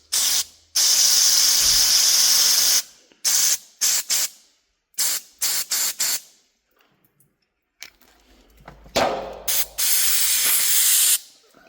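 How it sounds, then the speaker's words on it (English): Brake cleaner hisses from an aerosol can onto Honda parts in a series of sharp bursts of varying length, some long and some quick, separated by silent gaps. The spray is loud and close. "so I'm getting brake cleaner everywhere"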